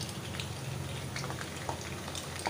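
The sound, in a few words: banana chips bubbling while frying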